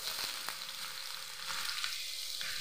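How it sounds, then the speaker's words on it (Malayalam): Sliced onion frying in hot ghee for Kerala-style ghee rice gives a steady close bright sizzle, with faint stirring scrapes and small pops throughout, no voices. "ഇനി നമ്മളിതിലേക്ക് സബോള ഇടുവാണേ."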